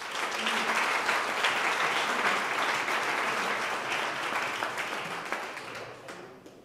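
An audience at a school info evening gives sustained applause to welcome a keynote speaker, a dense, even clapping that fills the room and gradually fades toward the end.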